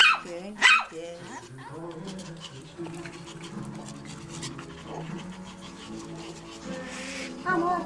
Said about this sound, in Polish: Moje pieski śliczne, najpiękniejsze.